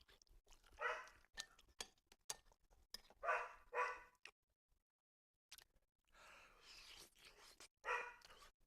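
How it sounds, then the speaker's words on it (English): Dogs barking in several short bursts, some sharp single barks and clustered yaps with quiet gaps between them, fairly close and loud, with a few small knocks in between. "Dogs."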